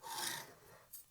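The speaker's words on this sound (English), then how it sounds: "Draw a line right down the middle." Brief scratchy rasp of a marker or scribe drawing a line down the middle of a Damascus steel knife blank, close and soft, one stroke then a faint second touch.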